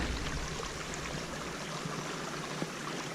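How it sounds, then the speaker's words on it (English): Continuous rushing of a creek, a broad steady wash of flowing water with no voices, heard close and unchanging throughout. "here's a creek running through here"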